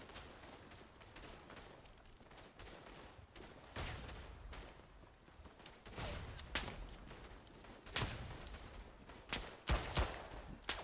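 Video game battle gunfire in Tannenberg, a WWI shooter, during an assault on an MG nest: faint, continuous crackle of distant rifle and machine-gun fire with sharper close shots and bursts scattered throughout.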